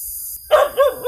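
A dog barks three times in quick succession, loud and close, each bark short and sharp with a slight yelping edge, after a brief quiet hiss.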